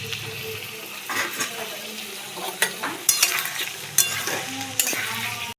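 Marinated chicken goes into a pan of lightly fried onions, hissing and sizzling with spoon scrapes and clacks, close and moderately loud, no talking.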